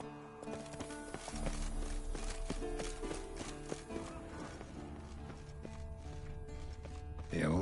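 Roach, the horse in The Witcher 3, galloping in a steady rhythmic clip-clop of hooves beneath layered game music, with a faint whinny-like sweep near the end.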